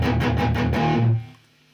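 Electric guitar played through a Marshall amplifier with the master volume at full, heavily distorted: several quick rhythmic strums, then a held chord that rings out and fades into near silence.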